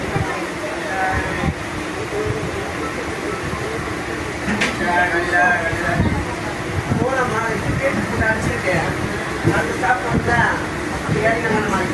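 A passenger train on a Tamil Nadu route rolls from the chord line track onto the main line, giving a steady rumble with faint clanks from the cars, and voices can be heard over it.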